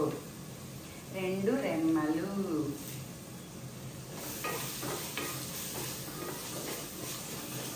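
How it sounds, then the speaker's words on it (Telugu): Ginger garlic paste frying in a pan for a Pulasa fish curry, a faint, steady sizzle with occasional stirring, mostly under a voice talking over it. "ఈ అల్లం వెల్లుల్లి పేస్ట్ పచ్చి వాసన పోయేంత వరకు వేయించుకొని"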